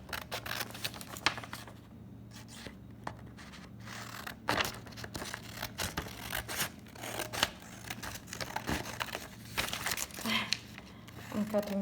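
Scissors snipping through paper while plant part words are cut out, steady close crisp cuts with paper rustling and crinkling between snips, a low hum underneath.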